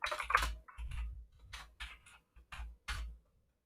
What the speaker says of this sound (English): Let's just type right here.